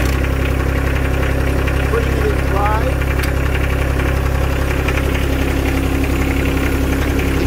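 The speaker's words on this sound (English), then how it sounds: "here we go, turning on the tractor." A John Deere 1025R compact tractor engine runs at a steady, close idle, its low drone and vibration constant throughout, while someone speaks briefly over it.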